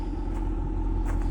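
A Cadillac CT5-V Blackwing with a Corsa extreme valved cat-back exhaust gives a loud, steady low rumble, close and continuous, with no talking.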